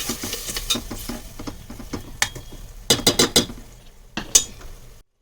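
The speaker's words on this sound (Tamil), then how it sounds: "இது நல்லா வதங்கி வரணும். வெங்காயம் கொஞ்சம் சுருளை வதங்கணும்." Onions sautéing in a pan with chili, turmeric and garam masala powder, with repeated close scraping and stirring clatters over a soft sizzle and a few sharp utensil knocks.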